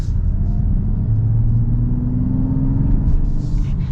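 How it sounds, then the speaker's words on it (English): Steady low rumble of a 2026 Mazda CX-90 Preferred underway, engine drone and road noise blended into a constant, even hum heard from inside the cabin, with no talking. "you do hear some road noise, you hear some engine noise and everything"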